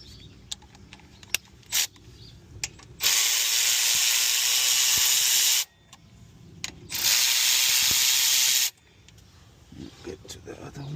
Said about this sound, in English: I'll use my cordless ratchet just to remove this.